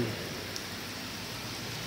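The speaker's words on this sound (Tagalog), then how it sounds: "Nagpapatila ng malakas na ulan." Heavy rain in Sampaloc, Tanay, Rizal, a steady dense hiss of downpour pouring evenly throughout, close and continuous with no voices.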